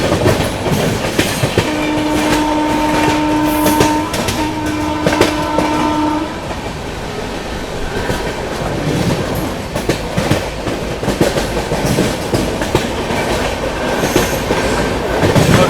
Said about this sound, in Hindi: क्या ट्रैक साउंड था भाई, मज़ा आ गया, क्या ट्रैक साउंड था।